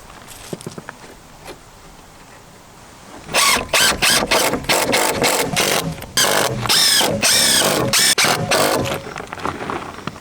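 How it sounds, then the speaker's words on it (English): A power drill drives screws through a steel plate into a wooden pool wall, with several loud close bursts of whirring and grinding broken by short gaps, after quieter handling sounds at the start. "I will use one of these steel plates, put it behind here and screw it in with a few screws."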